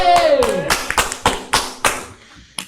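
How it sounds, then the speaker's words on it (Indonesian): An audience claps in a lively, unhurried rhythm of separate claps, close and fairly loud, while a voice speaks briefly at the start. "Tepuk tangan. Tepuk tangan deh."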